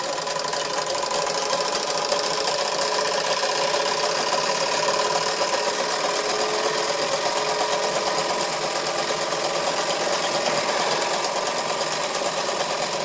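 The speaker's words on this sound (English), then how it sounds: "Let's try the grinding wheel yet." A Wilesco D141 toy steam engine drives a small grinding wheel, giving a fast, even mechanical chatter and whir that runs continuously and fairly loud, with no talking.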